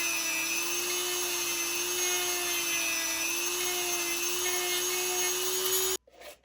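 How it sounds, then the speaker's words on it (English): A Dremel rotary tool whines steadily at close range while rounding the edges of a Stormtrooper costume forearm cover strip, with grinding and rubbing over the motor, then stops abruptly near the end. "Finish it off with the Dremel and go ahead and round all of your edges of your cover strip off."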